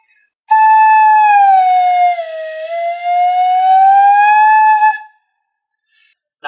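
A single wavering, whistle-like pure tone from a flute with a finger inside holds for several seconds, dipping in pitch midway and then rising again before cutting off.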